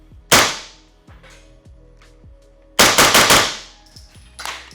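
A KP9 pistol firing 147 grain subsonic rounds indoors: one sharp loud shot, then a quick burst of about four rapid shots, with ringing room echo and faint clicks between.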